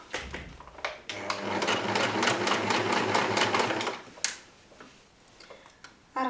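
A sewing machine runs fast and steady, stitching a seam with a hidden zipper, close and loud for about three seconds, then stops, leaving quiet handling clicks.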